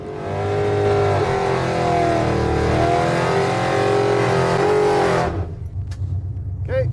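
A nitrous-boosted race car at full throttle on the Bonneville salt flats roars loud and steady for about five seconds, its engine note climbing, then drops away abruptly as the car pulls off into the distance.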